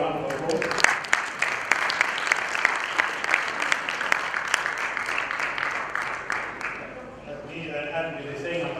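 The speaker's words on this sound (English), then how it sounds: "a small round of applause" Audience applause at a conference session, sustained steady clapping from many hands lasting most of the clip before tapering off near the end.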